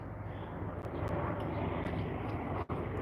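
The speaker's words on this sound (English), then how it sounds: "Come out the fucking helicopters up there." A helicopter flying overhead outdoors, a steady broad engine and rotor drone that holds level throughout, distant and continuous with no speech over it.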